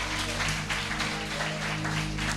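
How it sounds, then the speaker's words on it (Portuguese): A church congregation applauding during a sermon, a dense, steady wash of many hands clapping together, filling the room at moderate loudness with no break. "dê uma linda salva de palmas para Jesus."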